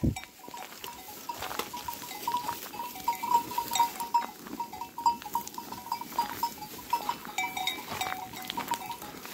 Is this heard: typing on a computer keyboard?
no